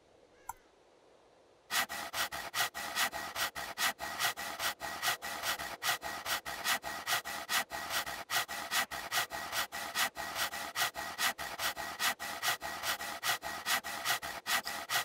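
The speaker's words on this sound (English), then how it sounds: "now I want to use my hacksaw" A hacksaw cuts through material in the survival game Scum, starting after a short quiet pause and then running as fast, even back-and-forth rasping strokes that repeat steadily and loudly with no talking.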